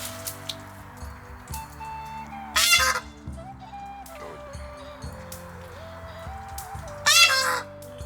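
Peacocks call in two loud, harsh bursts at a farm park, sounding near and standing out over steady outdoor background noise and soft farm sounds.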